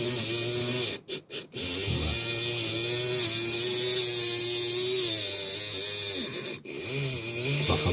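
A Triang Steeple Cab model train motor armature spins steadily while its commutator is cleaned, giving a close, continuous electric whine that cuts out briefly a few times.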